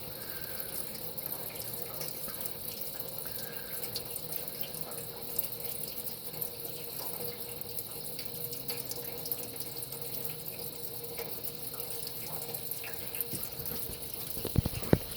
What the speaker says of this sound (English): Straight gasoline coming out of the oil plug.